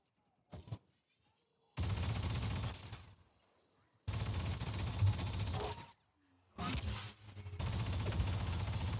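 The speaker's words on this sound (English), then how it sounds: "I will say the Sentry Chain Gun is maybe one of the most fun weapons in Battlefront 2." A Sentry chain gun in Battlefront 2 fires in long sustained bursts, a dense rattling roar in three streams of two to three seconds each, separated by short pauses, with a brief blast at the start.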